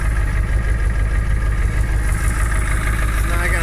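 A farm truck's motor runs at a steady idle, close and loud, its low, even rumble holding with no revving.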